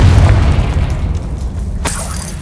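A Confringo spell explosion from the game Hogwarts Legacy bursts with a loud deep boom that rumbles and fades over a couple of seconds, ending with a sharp crackle.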